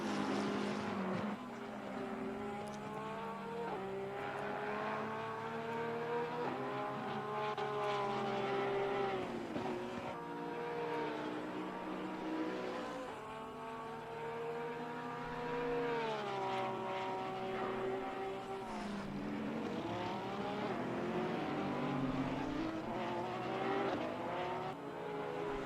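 Race car engines from a sim racing video game roar steadily, with whining gear-shift tones rising and falling as cars run laps on the track, loud and continuous throughout.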